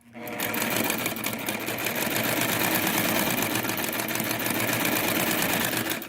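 A Singer 99K sewing machine runs steadily at close range on its first run, a continuous rapid needle clatter and motor hum with no talking.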